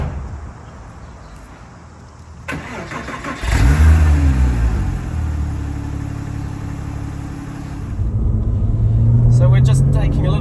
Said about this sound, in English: you might have a chance to hear that awesome flat 6 getting some revs